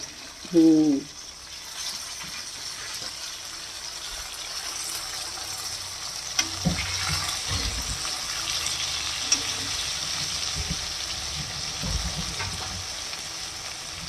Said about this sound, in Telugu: ఇదైతే బాగా వేపుకోవాలండి, వేయించుకోవాలి బాగా.